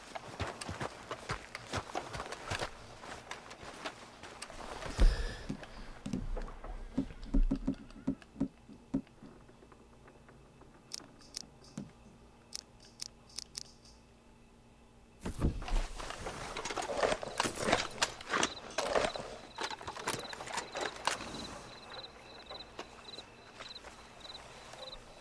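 Horse hooves clip-clop along a work site in the Red Dead Redemption 2 video game, a steady run of close, fairly loud footfalls that drops away briefly mid-clip before resuming strongly, with no talk over it.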